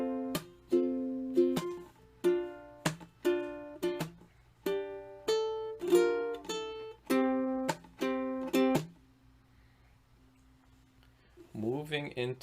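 Ukulele fingerstyle bar from a song tutorial, mixing plucked notes with muted chunk strums in a slow, even rhythm, close and clear, followed by a pause and a brief strum at the end.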